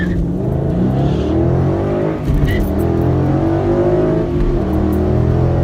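A 2011 Ford Mustang GT V8 engine revving, a loud, close, throaty roar that climbs and falls continuously, with a short dip in the middle before building again.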